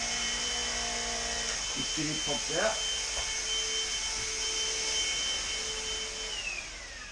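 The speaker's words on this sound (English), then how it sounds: "Now watch this with the vacuum cleaner." A vacuum cleaner runs steadily with a constant high whine and broad hiss throughout, while a person speaks briefly over it and a few clicks of parts being fitted come through.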